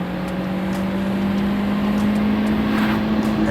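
A car engine at a fuel station held up at its rev limiter gives a loud, steady, high-pitched drone that stays constant throughout.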